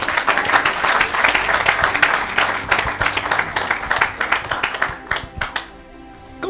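A church congregation applauds in dense, sustained clapping that swells and fades over several seconds, with a voice faintly mixed in beneath the crowd.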